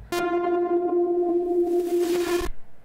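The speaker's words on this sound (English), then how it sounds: "you start to get these really, really interesting artifacts that are especially good for glitch music" A sustained buzzy tone from a saturator in wave shaping mode, holding steady for about two seconds before a burst of crispy, noisy glitch artifacts near the end.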